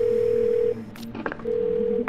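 Phone call tone in the video game 12 Minutes: a loud steady ringback tone sounds, breaks off for a moment of clicks and faint noise, then resumes.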